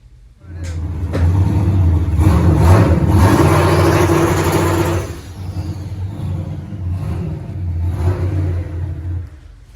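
A turbocharged 300 cubic inch race car engine, fire-damaged, revs loud and close, rising to a sustained roar for several seconds before easing back and surging again.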